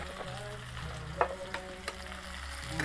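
Pieces of fried taro dropped into a pan with adobo sauce sizzle and fry steadily, with a few sharp clatters of stirring standing out over the continuous hiss.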